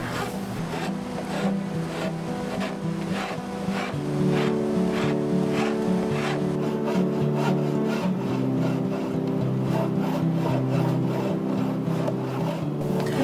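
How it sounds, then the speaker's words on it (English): A hand rasp smooths a scrap mahogany walking stick in steady back-and-forth strokes, loud, close and rhythmic, with a gritty wooden scraping that runs throughout. "I'm going to use a rasp to start going over the basic thing and kind of starting to smooth this down"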